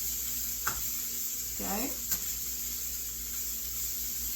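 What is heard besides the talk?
stirring sizzling beef stir-fry in the pan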